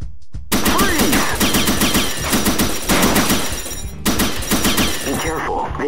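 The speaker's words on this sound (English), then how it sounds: "Submachine gun." Submachine gun fire in the Ranger Mission arcade shooter, loud sustained rapid bursts of automatic gunfire with a brief break, close and dominant, with a few game voice callouts mixed in.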